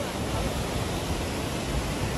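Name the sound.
waterfall spraying water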